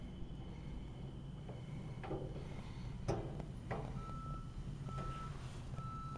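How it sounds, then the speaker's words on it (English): Across the street a truck backs up, its reversing alarm giving short, evenly spaced beeps that sound faint and distant over a steady outdoor hum and a few scattered knocks. "Truck across the street."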